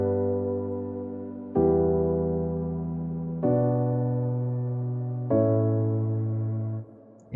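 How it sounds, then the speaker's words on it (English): A warm, full piano plays four sustained chords in a progressive house track break, each struck cleanly and left to ring and fade before the next, quiet and alone. "the chords piano sounds like this"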